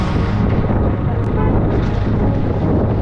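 Strong wind roars and buffets the microphone in a loud, continuous low rumble that never lets up.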